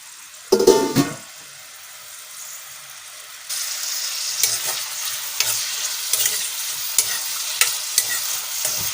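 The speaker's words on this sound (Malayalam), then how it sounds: "പച്ചമുളക്, ഇഞ്ചി വെളുത്തുള്ളി, തക്കാളി ഇതെല്ലാം കൂടി ഒന്ന് വഴറ്റാം." Chopped onion, green chili, ginger, garlic and tomato sautéing for palak paneer, a steady close sizzle with spatula scrapes and stirring taps, louder after a brief burst of clatter at the start.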